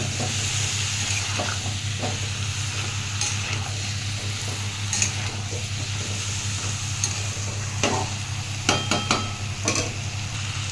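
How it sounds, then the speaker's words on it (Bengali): Shrimp stir-fried with jackfruit in a pan, a steady broad sizzle under a low continuous hum, with scattered scraping strokes and a few sharp clinks of the spatula near the end. "এবার আমি চিংড়ি মাছগুলো ওপর থেকে দিয়ে দেবো। একটু ভালো করে কষে নেবো।"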